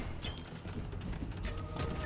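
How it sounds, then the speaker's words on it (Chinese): Three Spanish conquistador units firing guns during an Age of Empires II: Definitive Edition Spanish vs Tatars match, a dense, steady clatter of overlapping shots and impacts within busy battle noise. "这边三只西征速速开枪"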